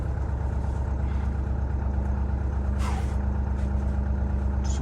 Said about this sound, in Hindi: चलो गाड़ी स्टार्ट हो गई एट लास्ट।